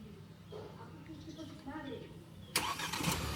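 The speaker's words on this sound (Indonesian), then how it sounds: "kita tekan beberapa detik untuk starter mobilnya" Chery Tiggo 8 SUV engine started by remote: a speaker talks over faint background, then the engine cranks and catches abruptly near the end, settling into a steady idle.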